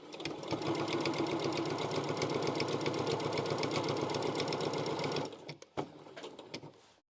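Sewing machine stitching fabric face masks, a steady, fast mechanical chatter running continuously at close range, then stopping abruptly near the end, followed by a few short bursts and handling clicks.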